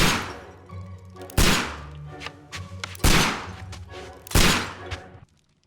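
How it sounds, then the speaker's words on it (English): Gunshots fired indoors in an apartment in Sherlock Holmes: Crimes & Punishments, three sharp loud shots spaced about every second and a half, each with a booming decay, over faint background voices. "This guy's just shooting"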